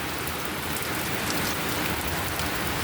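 Steady rain falls on a rainy day, a dense, even hiss of drops on surfaces that holds unbroken throughout, moderately quiet and with no voices.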